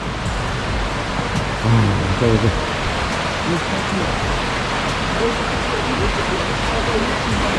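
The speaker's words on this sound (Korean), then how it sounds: "우측 폭포입니다" Waterfall on Juwangsan mountain in autumn, a steady broadband rush of falling water filling the scene throughout, with someone speaking briefly over it.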